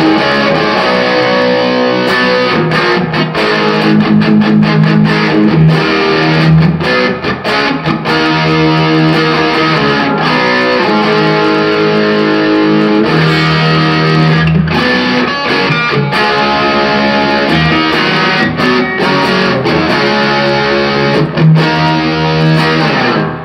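An electric guitar with a DynaRed pickup in the bridge position plays distorted chords, loud and continuous, strummed in a steady rhythm with sustained ringing.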